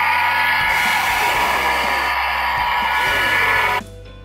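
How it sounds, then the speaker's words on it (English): Handheld hair dryer blowing on a toddler's hair in a bathroom, a loud steady whoosh running nearly throughout before cutting to a quieter hum near the end. "Now let's dry her hair with this hair dryer."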